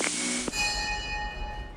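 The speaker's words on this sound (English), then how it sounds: "The bell tolls for all those who died on September 11th, 2001." A single bell strike tolls in memory of the September 11, 2001 victims. It gives a bright metallic clang, and its clear ringing tone fades slowly over a quiet background.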